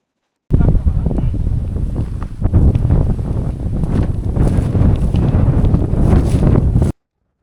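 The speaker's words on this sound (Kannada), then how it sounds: "ನಿಮಗೆ ಬೇಕಾದರೆ ಈ ಗಾಳಿ ಸೌಂಡ್ನ ಕೇಳಿಸ್ತೀನಿ" Strong wind roars steadily into the microphone on the Hulukudi Betta hill trek near Bangalore, a loud continuous rumbling buffet that never lets up.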